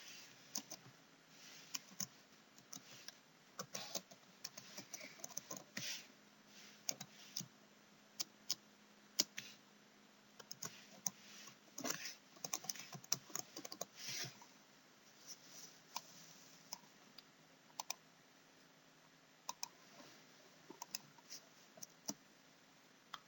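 Computer keyboard typing sounds while names are entered into a document, with quiet, scattered key clicks that come in irregular bursts and no talking over them.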